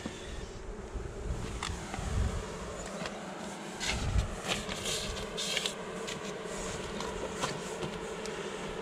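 Honey bees buzz at a beehive during a spring colony inspection, a dense continuous hum with individual bees droning past, close and moderately loud, with no talk.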